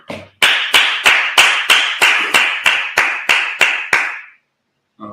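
A congregation at a Sabbath service claps in unison, about eleven loud, evenly spaced claps in a steady rhythm that stop abruptly, with no talking over them.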